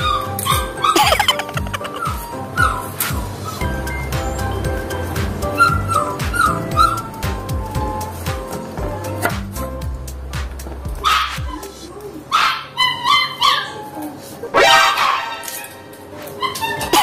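A dog barks in quick yips mixed with whimpering and whining in a home kitchen, loud and close, the bursts coming irregularly throughout with some background clatter.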